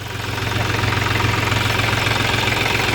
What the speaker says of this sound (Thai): ไม่รู้ว่าแรงม้ามันเท่าไหร่นะพี่น้อง แต่ฟังเสียงเหมือนเป็นเครื่องสามสูบนะ